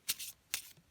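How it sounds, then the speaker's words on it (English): Tarot court cards are shuffled in two quick, soft riffling bursts, close and fairly quiet with no one talking. "So I would shuffle my court cards and work with them specifically."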